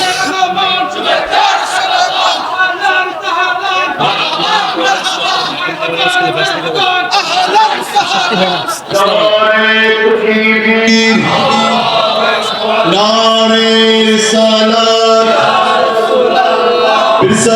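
A large crowd chants slogans at a religious rally on a madrasa field, loud massed voices answering a leader over a microphone in rhythmic, sustained call-and-response that fills the whole stretch.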